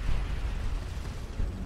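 A missile strikes the player's ship in the space game Starcom Nexus, a low rumbling blast with a dull boom that rolls on steadily, with no voice over it.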